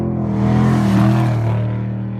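A Zongshen RX3 motorcycle ridden off-road in the desert, its engine droning with a steady tone that swells slightly as it revs up and then eases off, close and loud.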